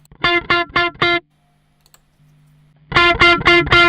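An electric guitar through a MOOER GE200 compressor effect plays short, compressed chord stabs in two bursts: four quick hits, a pause with a low hum, then more punchy strums.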